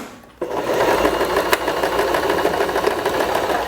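A sewing machine runs steadily, stitching a fabric strap for a reversible bag, its even mechanical whir continuing for several seconds after a brief quiet start.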